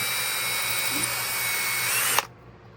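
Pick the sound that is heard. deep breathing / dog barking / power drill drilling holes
power drill drilling holes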